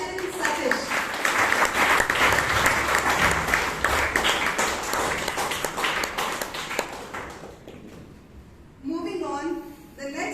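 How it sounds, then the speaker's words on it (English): A Toastmasters meeting audience in Bangalore claps and cheers loudly for about eight seconds as a member is welcomed, the dense applause then thinning out before a voice starts speaking near the end. "Please help me welcome him to the spotlight with endless cheering and clapping."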